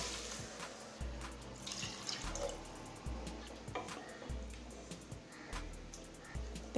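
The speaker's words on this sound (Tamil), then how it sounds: "அதனால் 2 கப் தண்ணி சேர்க்குறேன்." Water pouring and splashing into a cooking pot, two cups added for a soya chunk (meal maker) biryani, a steady near trickle with small splashes and no talking.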